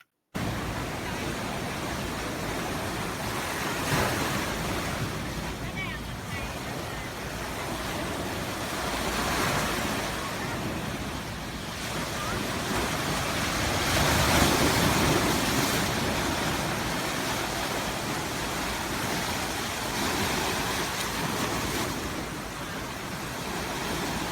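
Ocean waves wash in a broad, continuous roar, swelling and receding in slow surges with wind noise layered over, loud and steady throughout with no voices.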